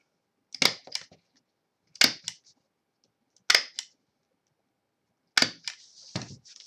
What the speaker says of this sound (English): So we're just going to go ahead and staple them.